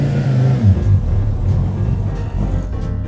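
Donkervoort D8 GTO JD-70 sports car driving, its engine a loud, steady low rumble with slight rises in revs, close and continuous throughout.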